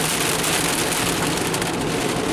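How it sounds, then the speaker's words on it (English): Pea-sized hail falling on a car during a road trip: a dense, loud, continuous roar of pelting impacts with no breaks, close by and steady throughout. "Hey, hail."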